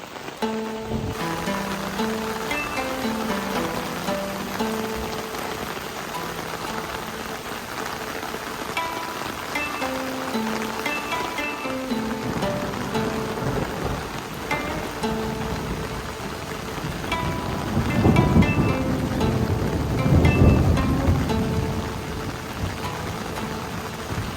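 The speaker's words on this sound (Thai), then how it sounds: "ไปดูบรรยากาศวันฝนพรำที่ซิรินอนออนเซนวันสุดท้ายของนักกันค่ะ" Steady rain patters at Tsurunoyu onsen, an old forest hot spring in Akita. A constant dense hiss of falling drops swells louder near the end, with no voices.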